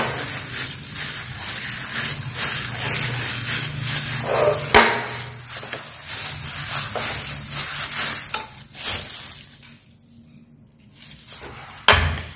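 Seasoned meat paste for Vietnamese pork balls is mixed by hand with salt, pepper and seasoning, producing close, squishy rubbing and slapping sounds that pause briefly near the end before a final thump.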